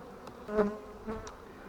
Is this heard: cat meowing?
no